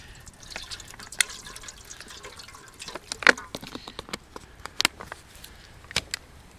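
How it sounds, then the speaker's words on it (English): Water trickles and splashes as a cooking pot is filled and rinsed outdoors in the woods, soft intermittent drips and sloshes with a few sharper clinks, close and quiet. "fill it full of water and rinse it out a little bit"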